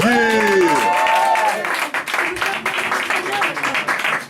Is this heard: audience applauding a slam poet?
yes